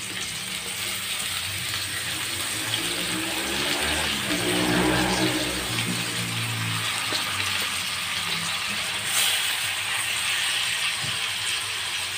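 Water pours into a hot pot of sautéed ingredients for sinigang (milkfish soup with camias), a rushing gurgle swelling in the middle over a constant sizzling hiss, then settling back into steady frying.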